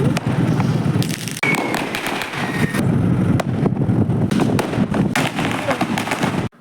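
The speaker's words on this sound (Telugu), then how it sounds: "మన అమలాపురం అంతా కూడా క్రాకర్ సౌండ్స్ తో దద్దరిల్లిపోతుంది" Diwali firecrackers bursting across the streets of Amalapuram in a dense barrage of sharp bangs and pops, some near and loud, others farther off, with a whistling rocket in the mix.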